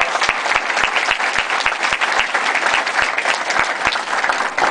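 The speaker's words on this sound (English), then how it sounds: "round of applause." A conference crowd at a Latina leadership summit gives a loud, full round of applause, dense overlapping clapping with a few sharper nearby claps, steady from start to finish without talk.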